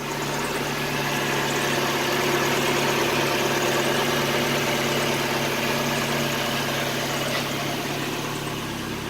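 A Mazda Miata engine idles after a valve cover gasket replacement, giving a steady, even low hum close by that holds at one level without revving.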